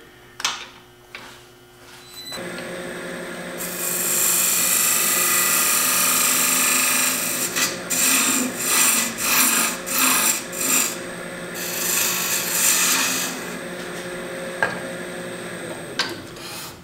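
A wood lathe spins a bark-edged birdhouse ornament while a tool cuts a taper, giving a loud, sustained raspy scraping that pulses in repeated strokes, then stops and restarts. No one speaks.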